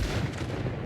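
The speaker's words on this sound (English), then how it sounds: "I love the way they ragdoll from gunshots" Gunfire in the zombie survival game Project Zomboid, a dense run of booming shots packed into one second, loud and continuous with no talk over it.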